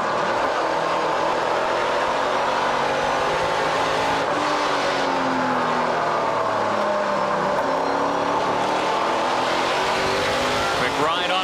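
A NASCAR Pinty's Series race car at Trois-Rivières runs over rumble strips, its engine revving high and rattling with tire scrub, a loud continuous roar up close.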